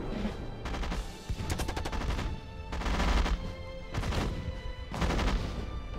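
Rapid gunfire crackles in bursts from anti-tank rifles in Rise of Nations, with several volleys of sharp overlapping shots and low thuds, moderately loud and repeating roughly every second or two.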